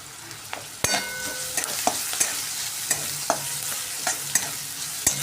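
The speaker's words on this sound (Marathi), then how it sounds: "कांदा छान असा लालसर रंग येईपर्यंत आपण याला परतवून घेणार आहे थोडंसं जिरं पण घालणार आहे आपण याच्यामध्ये" Onions with cumin sautéing in a pan for a Kolhapuri-style chicken rassa, a steady close sizzle punctuated by regular scrapes and taps of a spoon stirring against the metal, no talking.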